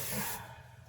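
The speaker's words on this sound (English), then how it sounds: "spray this a little" A short burst of hairspray hisses for about a third of a second, close by, then fades into quiet room tone.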